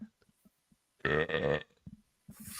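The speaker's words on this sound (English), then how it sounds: "We got a burp coming again." A single deep, drawn-out burp lasting about half a second, loud and close, with brief voice fragments before and after it.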